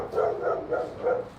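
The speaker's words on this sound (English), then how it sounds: "Or a loud dog." A loud dog barks four times in a steady rhythm behind a door while canvassing apartments door to door in Houston, each bark fairly close and clear with no talk over it.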